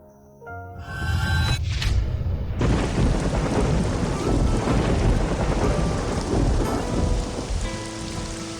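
Heavy rain pours down loudly with rumbling thunder, starting after a brief quieter moment and continuing as a dense, steady downpour to the end, with no voices.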